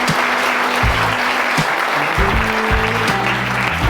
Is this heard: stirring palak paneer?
no